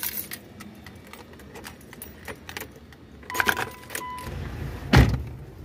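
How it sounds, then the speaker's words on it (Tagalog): Keys jangle close up against a 2006 Mitsubishi Lancer GLX with a failing fuel pump, then a sharp clunk and a short low burst as its engine cranks and catches. "umandar na ang ating sasakyan"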